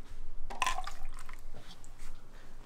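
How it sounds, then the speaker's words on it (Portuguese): Water is poured into a glass of beer: a brief splashing, liquid burst followed by softer trickling and dripping over a steady low background. "mas aí você botou água na cerveja"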